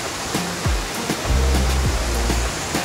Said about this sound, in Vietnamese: đây là ngọn thác Công Vua của chúng ta, rất là to, rất là hùng vĩ